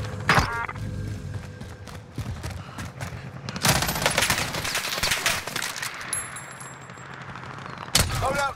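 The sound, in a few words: hostile gunfire in Warzone video game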